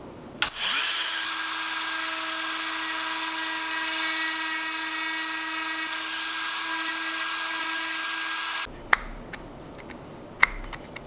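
A small rotary power tool deepens slots in a fishing lure, whining steadily and loudly close up for about eight seconds before stopping, followed by a few sharp taps.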